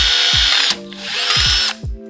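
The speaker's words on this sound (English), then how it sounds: "right here is gonna look like a good spot for our hole to be drilled" A power drill whirs loudly and steadily, its pitch dipping and surging as the bit bites into the metal of a 420cc Predator engine, with a few brief pauses in between.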